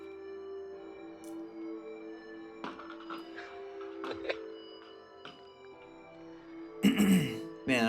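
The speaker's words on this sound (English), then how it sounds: "I had to clear my throat like a fucking 100 times." Several short, rough throat-clearing bursts stand out over a steady low hum, with a louder cluster of them near the end.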